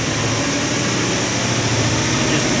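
A misfiring Lincoln LS engine drones with a rough, uneven low rumble while barely accelerating under throttle, steady and close with no voices.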